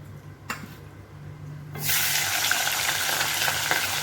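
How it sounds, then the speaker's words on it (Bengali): Rohu fish heads dropped one by one into hot oil, a quiet background hum giving way to a sudden loud, dense sizzle that swells and holds steady, with a light knock just before. "এখন এক এক করে মাথাটাকে ভেজে উঠে উঠিয়ে নেব"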